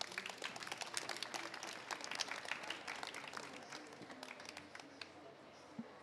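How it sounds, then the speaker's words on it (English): A conference audience at a COP30 session on marine carbon dioxide removal claps for the panel, with distinct clapping that swells early, then thins and fades to a few scattered claps, fairly faint in a large room. "Could I invite everyone to give the panel a round of applause, please?"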